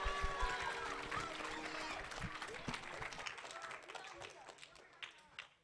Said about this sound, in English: let's have one final round of applause for the graduating class of